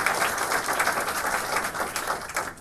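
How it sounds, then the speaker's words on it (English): Audience applause at a regional cabinet meeting, a dense, steady patter of many hands clapping for the governor, sustained throughout at moderate level. "So let's give the governor a round of applause."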